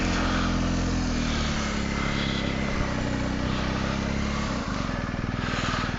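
A motorcycle engine runs loud and close as the ride begins, a steady droning rumble whose pitch shifts as the bike pulls away.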